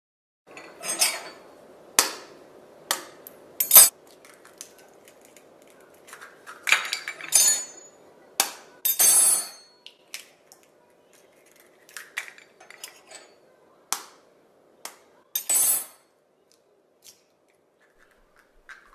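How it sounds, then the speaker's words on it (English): Four large eggs are cracked into a bowl in a kitchen, giving a series of sharp, close cracks and taps spread out with quiet pauses between them. "this recipe calls for 4 large eggs, which I have here, and I'm just going to crack them up."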